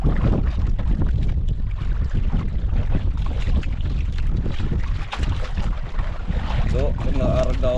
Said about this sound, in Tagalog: Ah, lakas na yun. Hangin.